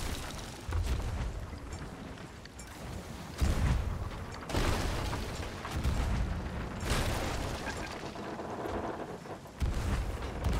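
Ship cannons fire over and over during a stormy naval battle in a pirate video game, deep booms arriving every few seconds over a continuous roar of wind and sea, loud and close.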